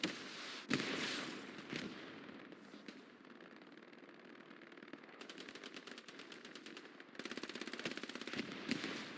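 A PPSh submachine gun in a video game fires long, rapid automatic bursts at close quarters, each burst a dense rattle of shots, with heavy thuds early on and no talk over it.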